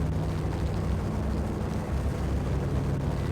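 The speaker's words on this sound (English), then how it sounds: "That chopper is still hovering around" Helicopter hovering in Max Payne, a steady low rumbling drone with a dense rotor wash, continuous and moderately loud with no voices.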